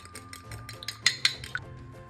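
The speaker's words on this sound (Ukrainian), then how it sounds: "Виделкою збиваємо яйце." A fork whisks an egg in a bowl while making cookie dough, giving light, quick clinking taps of metal against the dish in an uneven rhythm, close and faint with no talking.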